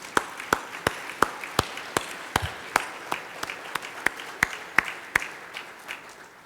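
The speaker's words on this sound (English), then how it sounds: "give each other an applause" Applause at a keynote address in a conference hall, heard as a fairly faint, steady pulse of sharp claps at an even rhythm, with no talking over it.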